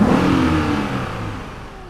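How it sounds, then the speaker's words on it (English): A car with a 420-horsepower V8 engine revs loudly and close by, its roar easing down in pitch and fading slightly over a couple of seconds. "Where there is a 420 horsepower V8 engine"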